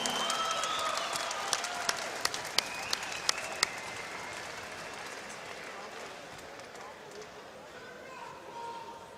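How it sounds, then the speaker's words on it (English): A crowd applauding steadily in a large room at an MMA event, the clapping sustained and fairly distant, with a few sharper claps standing out early on. "please give them a big round of applause"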